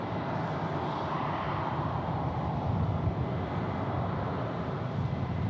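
A Frontier Airlines Airbus A321 jet airliner at Phoenix Sky Harbor produces a continuous, moderately loud engine rumble that stays even from start to finish, free of talk.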